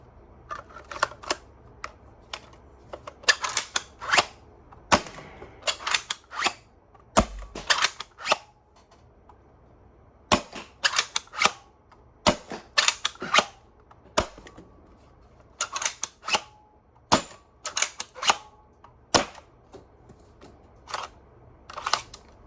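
A Nerf Foxbat blaster fires foam darts in a rapid string of sharp snapping shots, each a crisp close pop, with short pauses and clacking of priming between volleys.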